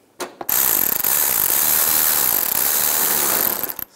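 A ratchet drives a 7mm screw into the front bumper of a 2010-2017 Chevrolet Equinox, a loud, close, continuous rapid clicking whir lasting about three seconds after a couple of brief knocks.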